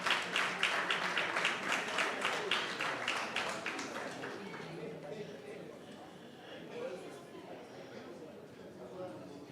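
An audience at a university student council gala dinner claps rhythmically and loudly for a few seconds, then the applause fades into murmuring chatter and background voices.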